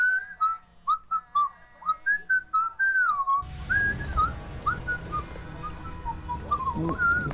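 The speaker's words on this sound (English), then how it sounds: "There's a bunch of birds in the sky." Bird calls in The Elder Scrolls Online: a run of clear warbling, whistle-like chirps repeating steadily, then continuing over a sudden wash of ambient game sound and background noise.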